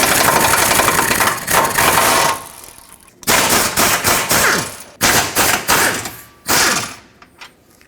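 A power tool, likely an impact wrench, removes bolts on a 2009–2014 Ford F-150 radiator support. Loud, close bursts of rattling hammering come in several runs separated by short pauses.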